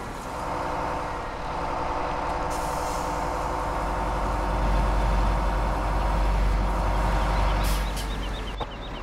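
A truck in the Farming Simulator 17 video game idles with a steady low engine rumble, then releases a short air-brake hiss near the end.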